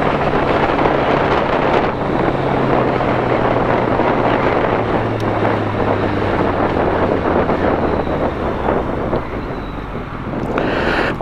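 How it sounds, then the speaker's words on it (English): Strong wind whipping across the microphone outdoors at night, a steady loud roar that continues without a break, with no speech. "You probably can hear that wind whipping, but it feels good."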